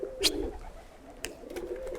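Pigeon on a rooftop terrace in Ankara cooing in a few soft, low calls close by, with brief sharp clicks or flutters between them.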